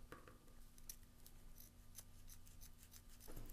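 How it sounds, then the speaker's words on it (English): Scissors trim off excess ribbon on a decorative ribbon candy craft, giving quiet, close, quick snipping clicks in a steady run for a few seconds, with no talk. "I'm going to cut off the excess ribbon."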